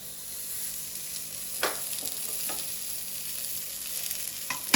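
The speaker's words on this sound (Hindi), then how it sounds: "ये देखिए तवा मैंने गरम कर दिया। अभी ये मैं रोटी इसके ऊपर रखूँगी।" Paratha cooking with ghee on a hot tawa, a steady close sizzle and crackle throughout, with a couple of sharper spatters and light scraping, no voices.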